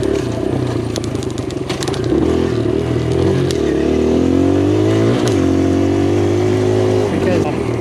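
A 2023 Kawasaki KLX140RF dirt bike runs hard on trails, its engine droning loud and close with rising and falling revs as the throttle shifts, plus some rattling clatter, while a voice talks over it.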